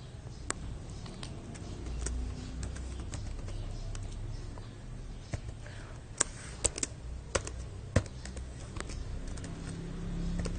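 Keys tapped on a computer keyboard while entering a terminal command, quiet irregular clicks with a few sharper keystrokes, close by over faint room noise.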